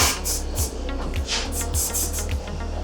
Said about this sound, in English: Apply some contact spray just to the bottom here where your tube's going to go.